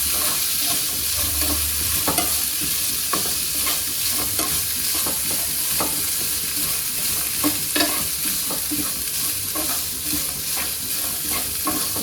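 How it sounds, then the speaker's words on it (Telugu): Coconut pieces frying in a pan, giving a loud continuous sizzle with frequent scraping stirs of a spoon throughout, close up and with no voices. "కొబ్బరి ముక్కలు ఫ్రై చేస్తున్నాను, వేయించుతున్నాను"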